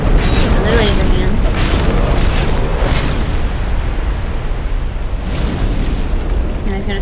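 The Old Iron King boss in a video game launching his laser hand attack, a loud sustained roaring blast with rumbling bursts and booming impacts throughout.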